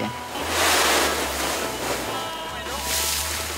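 Ocean waves on the coast of Tahiti, a broad rushing surf that swells and recedes in close, loud washes with a low rumbling undertone.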